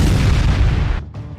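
Heavy boom of an explosion during a Hezbollah bombardment of Israel, a loud low rumble filling the moment before cutting off abruptly and trailing into a fading echo.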